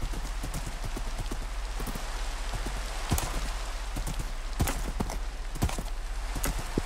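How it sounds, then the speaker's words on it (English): Minecraft horse hooves clip-clopping in a quick, regular rhythm along a path, crisp and close, over a steady hiss of in-game rain. "I have an accessibility horse."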